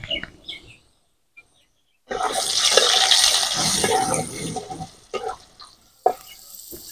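A little water with a pinch of salt is poured in to soak: a steady, fairly loud splashing rush lasts about three seconds, followed by a few faint clinks and taps.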